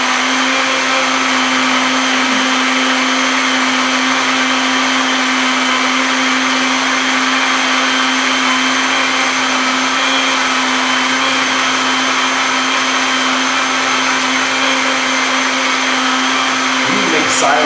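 A blender runs steadily with a loud, sustained whir while blending a thick horchata mixture, an unbroken motor drone for the whole stretch with no voices.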